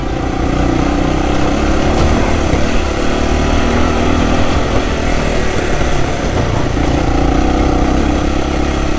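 An enduro motorcycle engine runs steadily and loud while riding up a dirt track, a continuous close droning hum with no talk.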